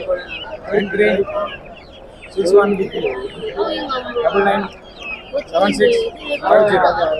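Desi chickens cluck and squawk at a busy chicken market in Mudgal, heard up close beneath nearly continuous conversation between people.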